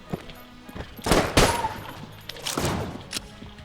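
Rapid automatic gunfire from a gun in the video game Enter the Gungeon: two dense, loud bursts of shots, the first longer and stronger, the second shorter, with faint game sounds between them.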